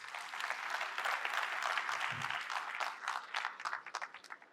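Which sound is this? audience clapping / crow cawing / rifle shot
audience clapping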